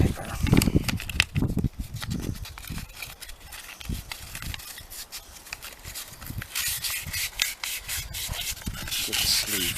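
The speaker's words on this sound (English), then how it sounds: "So what I do is I get a bit of wet and dry sandpaper." Wet and dry sandpaper rubs back and forth over a worn piston sleeve from a Lada 2102, a steady close scratchy scraping with uneven strokes.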